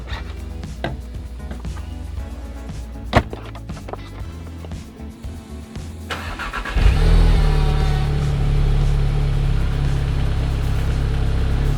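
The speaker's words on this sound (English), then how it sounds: "for a 4-cylinder turbo car, this exhaust actually stock sounds really good" Volkswagen Golf R with a four-cylinder turbo engine and stock exhaust: low idle rumble with a few sharp clunks, then the engine catches and settles into a loud, deep, steady drone close by.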